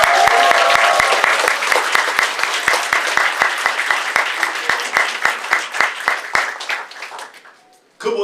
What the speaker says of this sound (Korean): 다시 한번 박수를 부탁드립니다